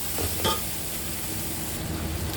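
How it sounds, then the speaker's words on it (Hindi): Beef frying in a pot for yakhni pulao, a dense, steady sizzle of hot fat, close and even, with a faint scrape of stirring early on. "अब हम इसको भूनते हैं, इसकी भुनाई करेंगे।"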